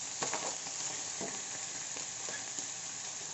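Chicken sizzles in a frying pan with mushrooms as it is stirred, a soft continuous frying hiss broken by a few scraping strokes of the utensil, fairly quiet and with no talking.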